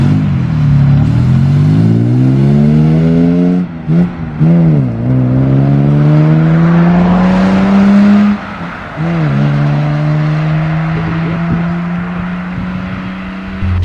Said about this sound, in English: XK140, straight 6 sounds.